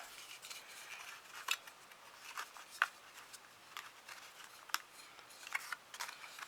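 A corner rounder punch rounds the corners of a small paper envelope, making several faint, crisp clicks and snips spaced irregularly in a quiet room.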